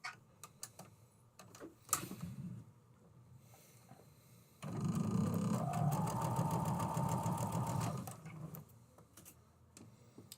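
A sewing machine runs a steady fast stitching burst along a matched seam, starting abruptly and stopping a few seconds later, surrounded by quieter handling clicks and rustles, close and alone.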